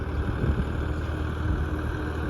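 A 60-horsepower tractor stuck in rain-soaked mud during paddy harvest, its engine holding a steady, heavy, labored drone throughout, loud and close with no voices.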